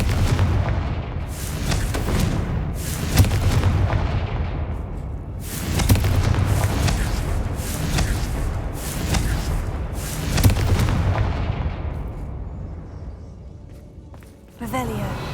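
Confringo blasting spells fired in the Hogwarts Legacy video game, heard as a series of loud booming explosions in bursts of several blasts each, with brief quieter gaps between, under game sound.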